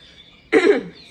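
A single short cough during a quilting session, one close, abrupt burst with no talk around it.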